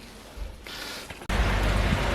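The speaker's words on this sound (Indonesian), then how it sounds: "Ini cuaca dari pagi, hujan terus di sini." Steady rain falls at night in Izmir, Turkey, a continuous broadband hiss that swells and grows noticeably louder and denser partway through, with no voices.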